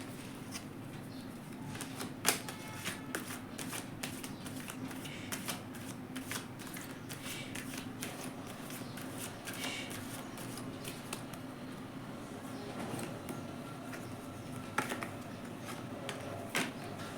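Tarot cards are shuffled continuously for the whole stretch, a dense run of soft riffling and flicking with a few sharper snaps, close by over a steady low hum.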